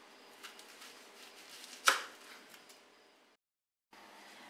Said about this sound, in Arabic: باش نقطعوا البصله